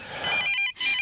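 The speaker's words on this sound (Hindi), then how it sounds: "राधा बजने दो ना, फोन तो बजने दो।" A telephone rings close by with a bright electronic trill, broken by one short gap before the ring resumes, with no talk over it.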